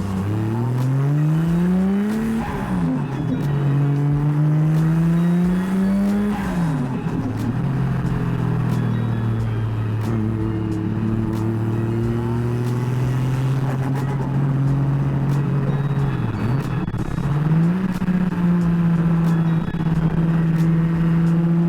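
A 1JZ-engined car climbs the Nikko mountain touge in Japan, its engine note rising and falling steadily through the gears and corners, loud and close throughout with brief dips between pulls.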